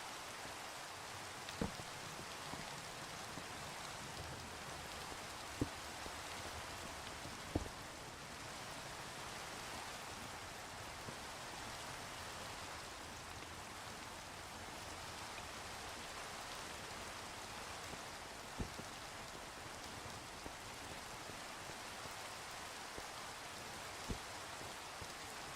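Steady soft rain falls in a video game, a constant hiss of drops with occasional faint clicks, heard alone without talk.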